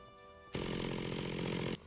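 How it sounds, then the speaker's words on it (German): A chainsaw in the video game Industrial Craft 2 revs for a little over a second, a loud buzzing whine that cuts in sharply and then stops, with quieter game ambience before and after. "Halt mit der Kettensäge."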